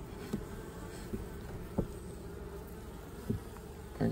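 Continuous buzzing of many bees close by as a fume board drives them down out of a hive, a steady insect drone with a few soft knocks and bumps.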